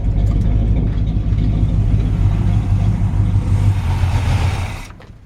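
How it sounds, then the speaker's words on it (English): A 1957 Chevy 3100 pickup truck engine idles smoothly and steadily up close, a loud low rumble with a constant even pulse that drops away abruptly near the end. "nice, smooth running engine"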